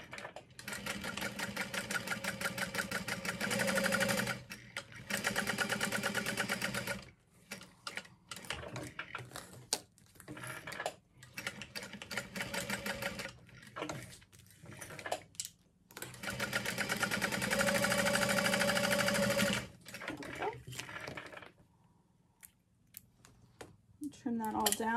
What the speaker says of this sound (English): sew around the whole box, really